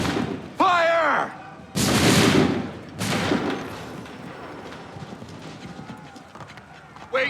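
A musket volley rings out in the Assassin's Creed 3 video game as a loud burst of crackling gunfire, followed by another blast a second later. A shouted voice comes first, and a busy battlefield clatter continues underneath.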